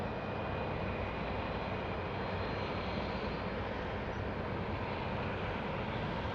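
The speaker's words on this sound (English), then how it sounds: "There goes the C-17." A Boeing C-17 military transport aircraft at Salt Lake City International Airport gives a steady, loud, broadband engine roar that holds throughout without pause, with a faint high whine above it.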